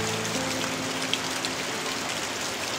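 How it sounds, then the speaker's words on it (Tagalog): Rain pours down in a dense, steady hiss of drops pattering on surfaces, with faint low tonal hum at the start and no speech. "Lord, huminto mo naman ang ulan"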